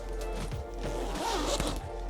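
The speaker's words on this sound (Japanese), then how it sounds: "このメインスペースのジッパーが大きく開くというポイントです" An Incase Tracks backpack's main compartment zipper is pulled open in one continuous close rasp lasting about two seconds, with a low steady hum underneath.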